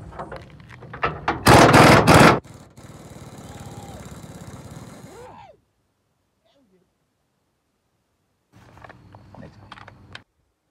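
Pneumatic air tool removing bed bolts on a Chevy Silverado pickup, loud close rattling impact bursts followed by a steady whir, a silent gap, then a shorter burst of tool noise.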